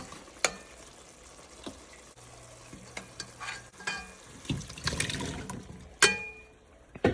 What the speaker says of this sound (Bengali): মাছগুলো আগে কষাই নিছি, এখন মাছগুলো নিয়ে ফেলবো